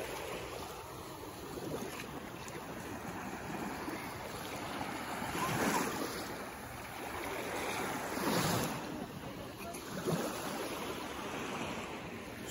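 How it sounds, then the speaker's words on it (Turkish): Sea waves at the shore of the closed-off town of Maraş, a soft continuous wash with gentle swells breaking every few seconds, faint and steady with some wind. "Şu an kapalı Maraş'ın denizindeyim."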